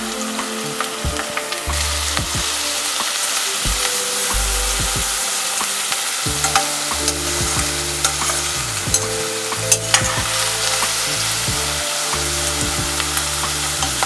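Cabbage and beans stir-fried with capsicum, mustard seeds and cumin in a pan for keto upma, a loud steady sizzle broken by frequent spatula scrapes and clanks against the pan, close and continuous, no speech.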